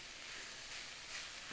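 Rosemary, fennel and garlic frying in a pan, a dense, bright, steady sizzle heard close and alone.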